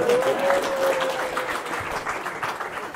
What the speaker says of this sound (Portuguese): Uma salva de palmas pro Gutenberg